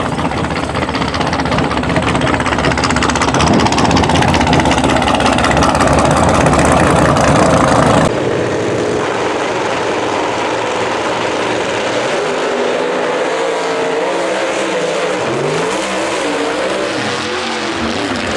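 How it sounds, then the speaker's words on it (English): A motorcycle engine runs loudly near a toy hauler at a raceway, with a dense, rough roar for the first half before the sound turns lighter and more distant, idling under scattered outdoor noise. "I'm about to unload the motorcycle out of the back of the toy hauler"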